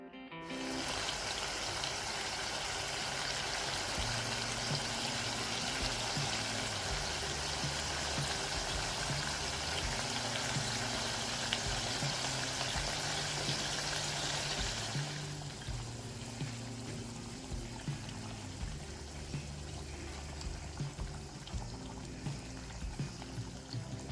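Water poured into a boiling Kerala mackerel curry (Malabar-style ayla mulakittathu), a continuous loud pouring hiss for about fifteen seconds, then a quieter bubbling simmer with faint knocks.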